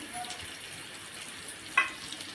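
Dried Bombay duck thecha sautéing in oil in a pan, a faint, soft continuous sizzle with a brief clink or stir near the end.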